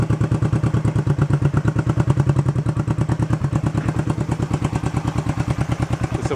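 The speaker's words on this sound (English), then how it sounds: "Now it's running on both, idling pretty good." A 1971 Honda CB350 barn-find motorcycle engine idles steadily up close on both cylinders, a loud, even, rapid chugging pulse that runs throughout with a slight mechanical clatter.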